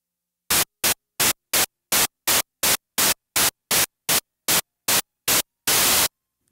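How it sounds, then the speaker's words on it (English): Bursts of white noise from an ARP Odyssey synthesizer hiss on and off in a quick regular series, about a dozen short pulses ending with one longer burst. "There's also a third slider in the mixer that allows you to add white noise."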